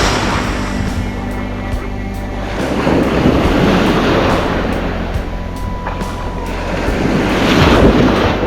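Ocean waves crash and surge onto the sand at Lido Key beach just days before a hurricane, a loud, continuous rushing roar with heavier breaking swells building toward the end, buffeted by wind noise on the microphone.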